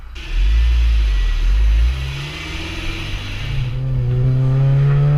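A supercharged Honda Civic Si FA5 engine roars close and loud at full throttle, rising sharply in pitch, dipping briefly at a shift, then climbing again under a strong whine.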